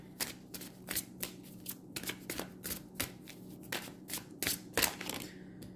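Tarot cards being shuffled by hand, a rapid series of crisp riffling bursts repeated over and over in an even rhythm, close and fairly quiet.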